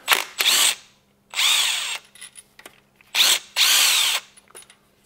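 An impact wrench rattles off the connecting rod bolts on a BMW S85 engine in four loud, close bursts of about a second each, with short quiet gaps and small clinks between them.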